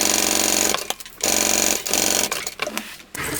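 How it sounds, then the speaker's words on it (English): A sewing machine stitches a tote bag panel seam in steady rapid bursts, running loud and close, pausing briefly several times between runs of stitching. "We're going to sew that with the seam allowance given in the pattern"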